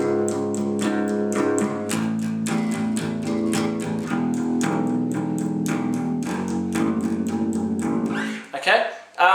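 Bass guitar playing power chords in a worship song arrangement, a run of distorted plucked chords struck in a steady rhythm, loud and close, with a brief scrape of playing noise at the end.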